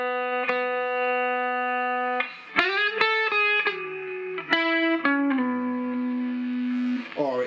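A distorted electric guitar through a Hughes & Kettner Metal Master plays sustained, buzzy notes and chords with sharp pick attacks and long ringing tails.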